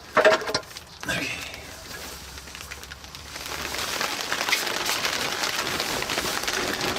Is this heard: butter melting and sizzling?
no